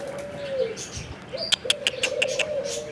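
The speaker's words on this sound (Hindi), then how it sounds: "ये हमारा कबूतर बैठा हुआ है" Pigeon cooing nearby in soft repeated calls, mixed with a few brief sharp chirps and light rustling, fairly quiet overall.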